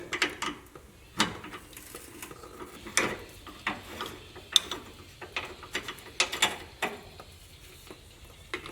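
A hand ratchet breaking loose 16 mm and 12 mm bolts on a Jeep Gladiator during steering and suspension work: rapid, close clicking pawl bursts in irregular runs, with sharp metallic ticks scattered throughout.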